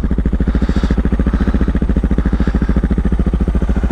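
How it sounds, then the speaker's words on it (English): A Suzuki DR650 motorcycle engine fitted with a new FMF exhaust pipe and silencer, idling loud and close with a steady, fast, even thumping pulse that continues throughout. "Bike sounds really good today."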